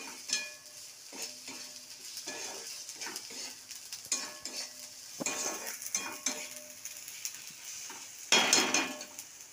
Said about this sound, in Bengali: এই মশলাগুলোকে ভালো করে ভাজতে হবে সিমটাকে আস্তে করে।